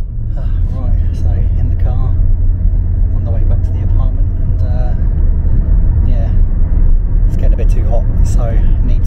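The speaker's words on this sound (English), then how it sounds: "In the car on the way back to the apartment" A car drives through Muscat, Oman, with a constant low road rumble and engine hum from inside the cabin, loud and steady, while people talk over it throughout.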